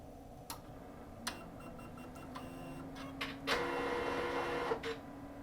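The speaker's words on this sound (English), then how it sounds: "how loud this printer can get when you start it up" A Brother DCP-L2540DW laser printer whirs to life with sharp clicks and clunks, then a louder mechanical hum builds and runs before a final click.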